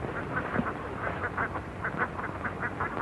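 Ducks quack in a rapid, repeated series of nasal calls, several birds overlapping at moderate distance over a steady background hiss.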